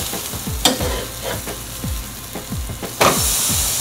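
Banana pancakes sizzling in a hot pan, a steady crackling fry broken by several sharp knocks and scrapes of a utensil against the pan.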